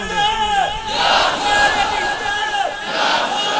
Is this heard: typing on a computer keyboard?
no